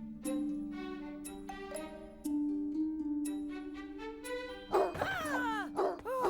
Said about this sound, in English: where Clumsy is escaping being chased by a dog and dives into the sink for protection.